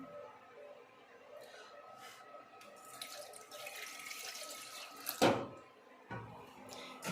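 Water runs and splashes into a glass at a home kitchen sink, a faint steady trickle that swells for a moment with a brief clatter near the end, quiet throughout.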